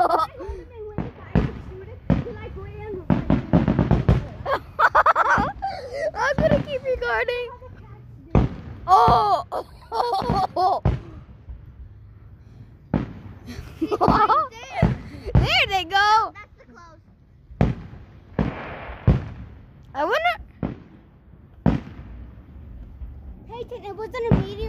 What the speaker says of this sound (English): It wasn't a meteor that you saw, it was a firework.